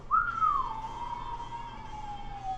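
A single descending whistle, like a projectile flying in, starts high and sharp then glides down into a steady, sustained tone lasting a few seconds, moderately loud over a faint background hum.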